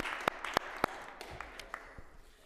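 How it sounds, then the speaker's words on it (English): Scattered, sparse handclaps from a small group in a city council committee room at New York City Hall, a few sharp claps standing out before fading, fairly close. "more round of applause"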